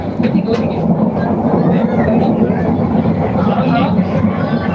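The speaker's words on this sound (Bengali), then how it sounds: "একটা ট্রেন" A loud, continuous rumble of the Dhaka to Cox's Bazar Parjatak Express train rolling past close by, steady throughout with a low droning roar.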